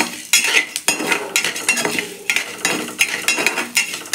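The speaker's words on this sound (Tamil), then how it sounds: "இதே வெங்காயத்தை வதக்கலாம்" Onions sautéing in oil for a country chicken curry, with a spoon scraping and clanking against the pan in a repeated rhythm over a light sizzle, close and loud.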